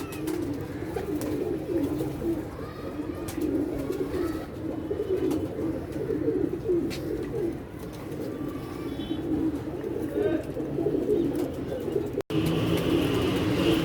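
Pigeons coo repeatedly in soft, low rolling calls close by, with faint background noise and a brief click near the end.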